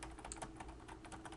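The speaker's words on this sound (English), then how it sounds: "enter, enter, and then I'm going to type the letter" Fingers tap steadily on a computer keyboard while typing a business letter, a quick run of soft, close key clicks with no talking.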